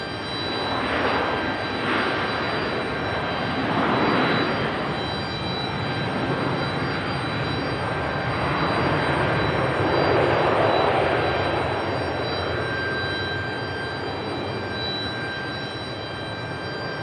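An airliner on its takeoff roll at Raleigh-Durham International Airport, a steady loud jet roar that swells and holds for many seconds, heard from a distance with no talking.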